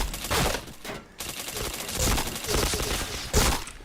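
Rapid gunfire bursts from a mobile shooting video game, loud and close, with short gaps between volleys.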